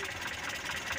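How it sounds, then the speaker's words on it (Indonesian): A Mitsubishi Colt T120 engine runs steadily with its distributor timing adjusted, with no knocking, just a slightly uneven edge. The hum is close and constant for about a second. "agak arang-arang gimana gitu suaranya mesin teman-teman"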